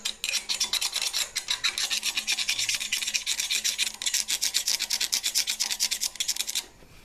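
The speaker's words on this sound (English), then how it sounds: "I will chip all these little pieces here off with a screwdriver" Continuous rapid rasping and scraping as a screwdriver chips welding slag off a weld bead from a cheap Harbor Freight welder, steady rhythmic strokes up close for several seconds, then stopping.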